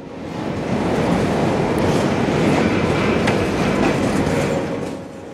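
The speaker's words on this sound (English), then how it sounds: "Train 335 is empty rock from City Point near Cocoa Beach to Miami, Florida" A Florida East Coast Railway freight train, running empty rock cars from City Point near Cocoa Beach to Miami, rolls steadily past at close range near a Miami yard junction, with a continuous clickety-clack of wheels and a rumbling roar throughout.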